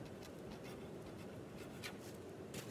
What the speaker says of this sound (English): So on the last column, I am going to write Thursday.